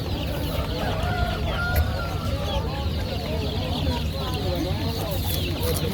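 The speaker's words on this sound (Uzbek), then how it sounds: "Jo'ja xo'rozlar necha pul?" Young roosters and hens cluck and call continuously at a busy outdoor poultry market, with crowd noise and a few faint crows in the background.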